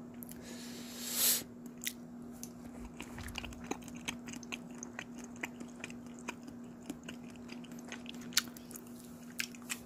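Someone eats raw fish sashimi dipped in wasabi, with close, quiet wet chewing and soft biting clicks over a low steady hum and one brief louder rustle early on; no talking.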